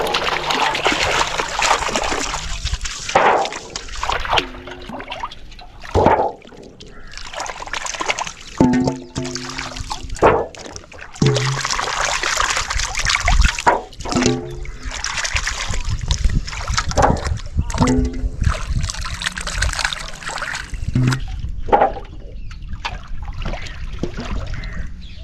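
Potato pieces are rinsed in water in a home kitchen while making sun-dried spicy potato chips, giving repeated close splashes, sloshing and trickling through the clip, with brief low voices now and then.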